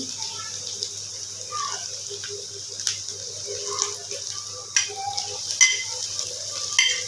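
Keema mixture with chopped green onions being stirred in a pan, giving soft scraping and occasional spoon knocks over a faint sizzle, with a few sharper clinks near the end.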